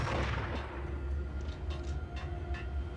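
A heavy booming gunshot from a sniper rifle in the video game Max Payne, a loud low blast at the start that rolls off into a long rumbling tail with faint clattering behind.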